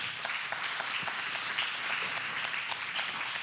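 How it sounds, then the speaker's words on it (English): An audience claps during a talk and Q&A session, a dense, steady patter of many hands at moderate volume lasting a few seconds without voices. "Yeah, you can clap for that."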